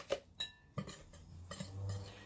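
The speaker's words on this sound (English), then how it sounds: "we need to mix it all round nicely" Spoon stirring a jelly packet into a raspberry dessert mixture: a few light clinks and scrapes of metal against a bowl in an uneven rhythm, close and quiet, with no voices.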